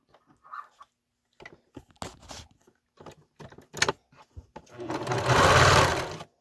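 A sewing machine stitches along the seam of a homemade Elf on the Shelf mask and hat, starting after several short clicks and taps, then running in one steady, loud burst near the close.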